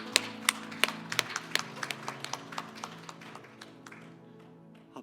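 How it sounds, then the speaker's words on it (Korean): A church congregation claps in praise during a Sunday service, a series of sharp hand claps that start loud and evenly spaced and then grow softer and more scattered over music. "그 위대하신 하나님께 박수로 큰 영광 올려드립니다."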